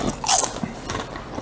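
Close, crisp bites and crunching on Siete churro-flavored snack chips, a sharp crackling bite followed by several quicker chewing crunches.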